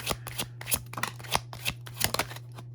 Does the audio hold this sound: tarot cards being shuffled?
yes